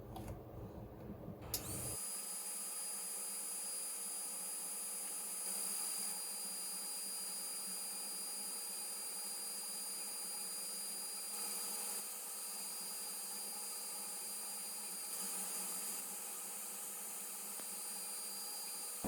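A steady machine whir with a thin high whine starts after a brief noisy moment and hums on evenly, a laser engraver's exhaust fan running without air assist during a burn.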